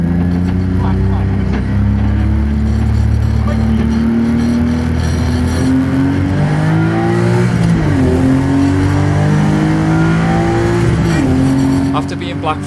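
Drift car built to go sideways, its engine revving hard on a race track, a loud continuous drone with rising and dipping pitch shifts throughout, with voices faintly present.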